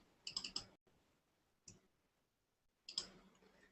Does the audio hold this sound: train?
no